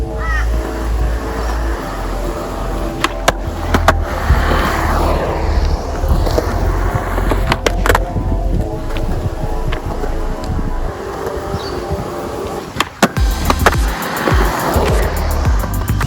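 Skateboard wheels rolling over rough concrete at an outdoor skate park, a continuous near grinding rumble with a few sharp clacks from the board hitting a ledge or curb drop, wind buffeting the microphone throughout.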